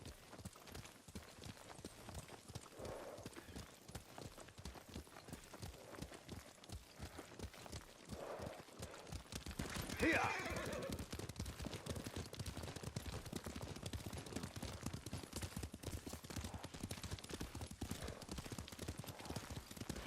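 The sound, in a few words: horse riding in a video game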